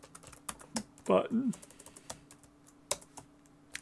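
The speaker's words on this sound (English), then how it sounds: "Sorry for my typing." Light clicks of typing on a computer keyboard, scattered irregular taps at moderate distance around a short burst of speech while coding a save button in Adobe Animate.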